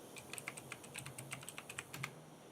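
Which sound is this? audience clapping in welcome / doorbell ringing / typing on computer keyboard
typing on computer keyboard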